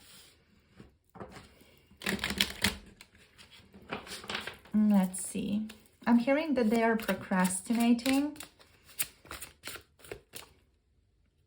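Soft rapid tarot card shuffling in short riffled bursts, close by, with a person talking in between.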